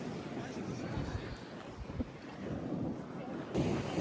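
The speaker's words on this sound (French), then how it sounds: "Il y a grave du vent." Strong wind gusting outdoors beside rising water in cold weather, a continuous rumbling buffet across the microphone with brief louder surges, no clear speech.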